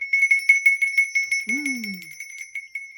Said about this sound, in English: I brought two bells.